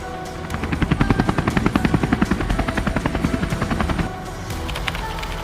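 A cartoon helicopter flies close and loud, its rotor chopping in a fast steady rhythm for about four seconds before easing into a lighter drone.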